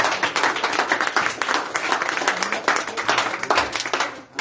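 A church congregation applauding during a spiritual retreat service in Arequipa, a dense and fairly loud wash of clapping that holds steady for several seconds and then dips briefly at the end.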